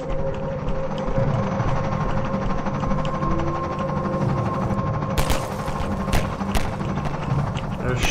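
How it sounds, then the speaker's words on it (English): Gunfire aimed at the player in Half-Life 2, sustained rattling shots over a droning engine-like background, with sharper cracks near the end. "They're shooting at me."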